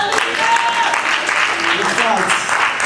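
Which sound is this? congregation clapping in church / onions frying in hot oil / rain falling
congregation clapping in church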